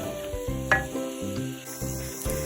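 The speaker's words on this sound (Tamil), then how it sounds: "இந்த மாதிரி கடாயில் பண்ணுறதுனால பக்கத்துல இருந்து கொஞ்சம் லைட்டாக வதக்கி விட்டுட்டே இருங்க" Scallops sauté in an iron kadai with a continuous close sizzle and a few short stirring scrapes over the hiss.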